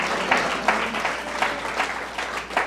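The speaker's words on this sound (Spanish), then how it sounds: "Demos un aplauso al Señor en esta hora." A church congregation applauds the Lord during a Spanish-language Christian sermon, a steady wash of many hands clapping with a few louder surges, fairly close and alone without speech.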